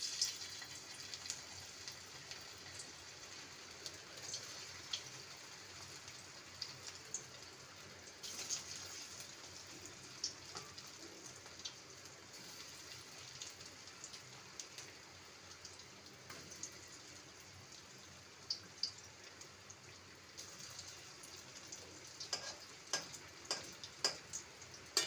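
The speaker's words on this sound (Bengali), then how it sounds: "এবারে এগুলোকে মিডিয়াম ফ্লেমে ভেজে নেব।" Onion and egg snacks frying in oil over a medium flame give off a soft, steady sizzle with sparse faint ticks and pops. The level stays quiet throughout, with no voices.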